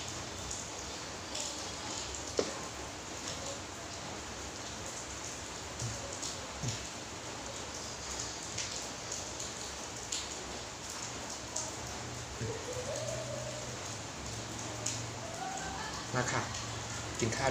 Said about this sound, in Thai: บางทีก็ทำคลิปไปก็มีเสียงฝนนะพี่น้อง